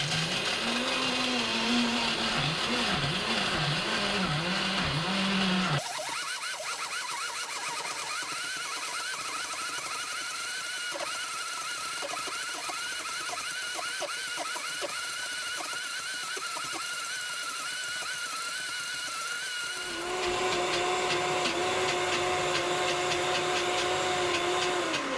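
Vitamix S30 blender starting at variable speed 1 and quickly ramping to its highest speed: a loud motor whine climbing in pitch, shifting to a deeper churning roar, then returning to a high steady whir.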